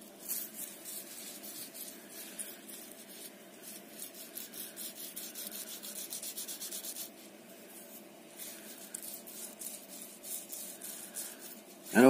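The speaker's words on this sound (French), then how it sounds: "Le petit roulement, on va le nettoyer un petit peu." A small vintage piston bearing from an MBK moped engine is cleaned by hand with soft, close, irregular rubbing and scraping strokes, fairly quiet, with no speech during it.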